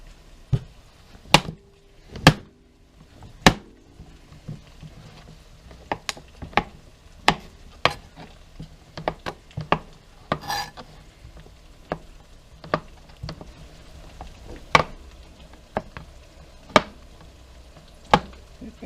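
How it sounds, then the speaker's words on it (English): Leftover pressure-cooker corned beef brisket being chopped for hash: a long series of sharp, irregular knife-on-board chops, some loud and close, while a faint sizzle of frying continues in the background. "While that's cooking, we're going to chop up the meat."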